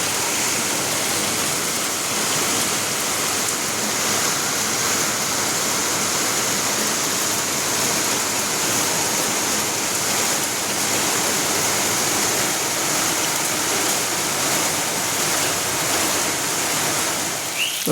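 Steady, dense rain pours down in a continuous hiss around a two-storey house, with no talking and no breaks throughout.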